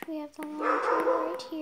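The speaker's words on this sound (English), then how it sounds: "That's my dog." A household dog barks in a short burst indoors, mixed with someone talking nearby.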